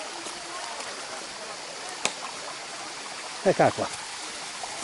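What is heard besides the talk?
small waterfall channelled through a narrow stream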